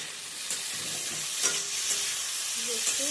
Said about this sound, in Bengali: কাঁচা লঙ্কা দিয়ে হালকা ভেজে তুলে নেব।